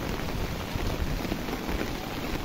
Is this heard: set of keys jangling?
no